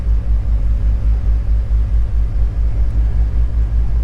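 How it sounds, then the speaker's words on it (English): A steady, loud low rumble fills the cabin of a Beechcraft G58 Baron, with the cockpit blower fan running as a constant droning whir without any break. "I'm gonna get the blower going just so I don't fog up the windows"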